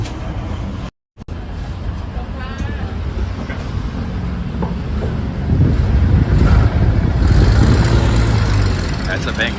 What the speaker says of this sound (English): That's a Bangkok city bus right there.